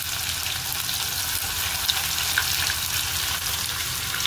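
Onions frying in hot oil with fenugreek and curry leaves, giving a steady, dense sizzle that holds at an even level throughout, close by and with no talking.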